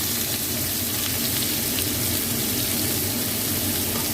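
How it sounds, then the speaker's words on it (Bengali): Chopped onion fries in hot oil with dried chilli and fenugreek seeds, a loud, dense, unbroken sizzle heard up close with no talking. "পেঁয়াজটা দিয়ে একটু ভেজে নেবো আগে"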